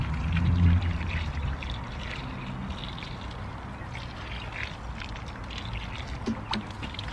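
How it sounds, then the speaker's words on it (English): Water pours and trickles softly onto freshly sown garden pots of carrots, potatoes and mooli outdoors, a continuous gentle splashing stream, quiet and close, with a faint thud or two. "so I'll give this a good water."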